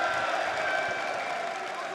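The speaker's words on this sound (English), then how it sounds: "Still the OCE chants go." Large arena crowd at an esports world championship match between Chiefs ESC and Team Envy, a dense, sustained roar of cheering and chanting heard from within the hall, steady in volume with no clear breaks.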